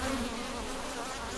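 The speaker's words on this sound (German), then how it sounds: "hier kommt eine Biene mit Pollen, hier fliegt gerade eine Drohne rein" Honeybees and larger drones buzz steadily at the entrance of an organic beehive, a dense, continuous close-up hum of many wings with a slight drone of a nearby insect passing early on.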